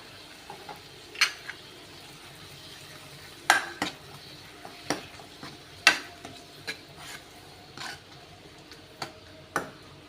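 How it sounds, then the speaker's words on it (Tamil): Spices sauté quietly in a pan for coconut milk rasam, with a soft background sizzle broken by sharp, intermittent clinks and scrapes of a spoon stirring against the metal. "கொஞ்சம் வதக்கி விட்டுக்கோங்க"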